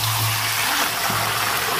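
Water pours in a steady, close rush into a pan of spicy Bengali chicken curry, a brief continuous splashing flow with a low hum beneath it.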